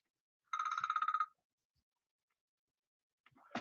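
A telephone ringing once in a short trilling burst, clear but fairly quiet in an otherwise silent room, followed by a faint noise near the end.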